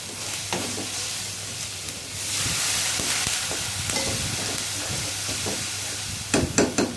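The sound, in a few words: stirring spice masala with beef tripe in a pan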